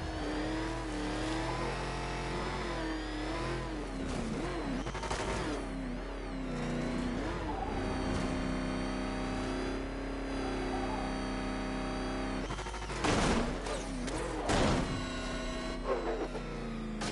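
Car engine in a Batman video game revs and accelerates loudly and steadily throughout, a droning motor with rising surges and a couple of sharp impacts near the end, mixed with game music.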